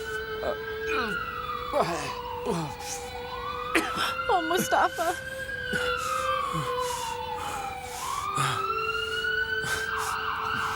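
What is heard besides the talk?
ambulance siren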